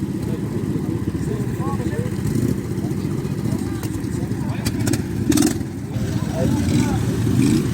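Several small ride-on lawn mower tractor engines drone and buzz continuously at close range during a French championship race, with occasional rises in revving and faint voices in the background.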